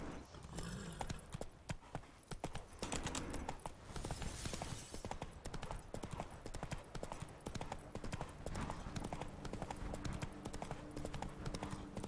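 Roach the horse's hooves clip-clop steadily in The Witcher 3 game, a brisk rhythmic trot of hoof strikes heard up close and fairly quiet, with faint game ambience underneath.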